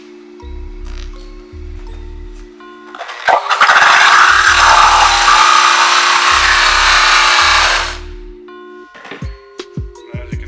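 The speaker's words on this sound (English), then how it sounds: "we're going to take our wheel, use our rake, and fray the edges so that way it'll accept the compound better" A rake is pressed against a spinning polishing wheel to fray its edges, producing a loud, rough scraping roar for about five seconds over a running motor hum. Short rumbling thumps come before and after.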